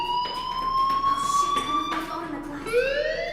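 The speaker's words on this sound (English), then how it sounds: "Hey, do you hear that fire alarm?" A fire alarm rings in the video game Life Is Strange, a steady electronic tone with bright harmonics that shifts pitch near the end, sounding continuously under faint background sound.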